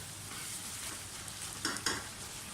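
Softened tomatoes being stirred in a frying pan for chicken keema fry, a low continuous sizzle broken near the end by a couple of louder scraping stirs.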